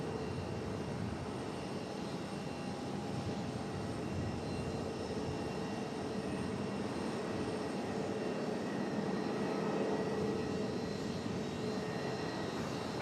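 A FedEx jet rolls down the full runway length for takeoff at Raleigh-Durham airport, a steady, distant engine roar with a faint whine, holding evenly without any voices.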